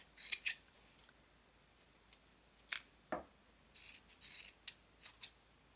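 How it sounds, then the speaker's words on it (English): Scissors snipping through fabric scraps, a series of short crisp cuts in irregular bursts, close and quiet with no speech. "If you have bigger pieces, just cut them like this."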